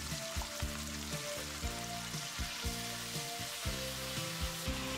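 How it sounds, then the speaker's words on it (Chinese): Cooked vegetables with soy sauce are stir-fried in a wok for a spicy mala dish, a constant sizzle overlaid by rhythmic scraping tosses every half second or so. "再依次加入刚才煮熟的菜，进去翻炒均匀"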